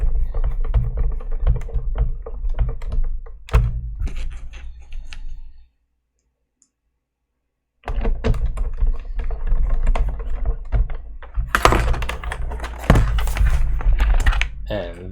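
Keycaps are pressed onto a Kinesis Advantage keyboard retrofitted with Cherry ML switches, giving bursts of close plastic clicks and taps, a brief silent gap midway, then more rapid clicking.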